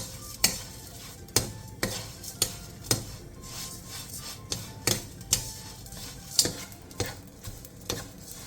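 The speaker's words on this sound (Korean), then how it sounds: "마른 팬에 잡멸치 200g을 넣고 센 불에서 5분 정도 볶아주세요." Small dried anchovies, 200 g, dry-roasted in an oil-free pan over high heat, with repeated sharp scraping and clattering stirs against the pan at an irregular rhythm over a faint sizzle, close and alone without talk.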